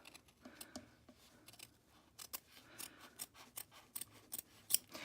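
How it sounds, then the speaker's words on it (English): Scissors trimming felt close to the stitching of an in-the-hoop embroidered ID badge blank, a quiet run of crisp, quick snips coming close up in short irregular clusters with no talk. "And then I come back through, and I trim my felt."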